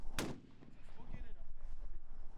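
A single loud, sharp rifle report cracks out at the start, from a long-range shooting competition firing at targets two miles away, followed by wind noise and a faint low rumble as it fades.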